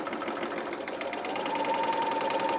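A Bernina L850 serger stitches fabric at a steady pace, with a rapid, even mechanical whir and rhythmic chatter heard up close and alone.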